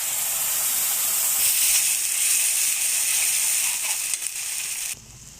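Spice paste, ground in a mixer jar, hisses loudly as it hits fried onions in a frying pan for a curd rohu fish curry, then cuts off abruptly near the end.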